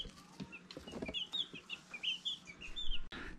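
Baby Dominique chicks kept indoors in a temporary warm rig in a washroom, a group peeping in rapid high chirps, close and fairly quiet, with soft rustling and bumps beneath.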